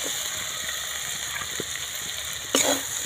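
Fried potatoes and cauliflower tipped into a pan of cooked-down spices, a steady soft sizzle with a sudden louder burst of hissing near the end as the pieces hit the hot pan.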